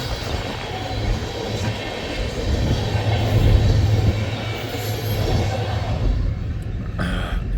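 Empty BNSF ethanol tank train headed to Cargill in Columbus, Nebraska, rolling past with a continuous low rumble and wheel noise, then fading sharply near the end.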